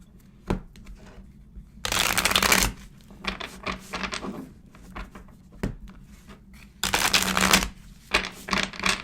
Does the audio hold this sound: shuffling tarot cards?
yes